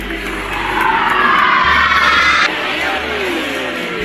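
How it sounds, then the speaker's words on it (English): A loud basketball arena crowd in Chicago roars and cheers steadily, swelling to a peak and then easing slightly while staying loud throughout, with scattered whoops and a voice calling out over the noise. "Listen to the crowd."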